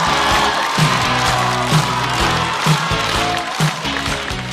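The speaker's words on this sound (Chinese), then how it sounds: "掌声欢迎贾浩。" A live stand-up comedy audience in a two-level venue claps and cheers to welcome comedian Jia Hao, the crowd noise running under loud, rhythmic walk-on music with a steady thumping beat.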